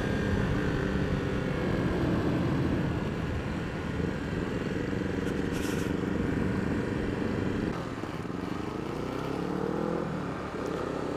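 A Honda CB150R SE motorcycle engine drones steadily while riding, its note rising and falling with shifts and throttle changes, loud and continuous against wind noise.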